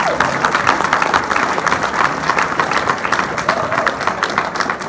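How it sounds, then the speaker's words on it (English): Audience applause at a church gathering, a steady, dense clapping that holds at even loudness throughout, with some crowd murmur mixed in. "Can we give an applause, please, guys?"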